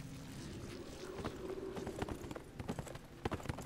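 Rhythmic clip-clop of horse hooves on a hard surface in the video game Neverwinter, moderately close, with wind and a faint background rumble underneath.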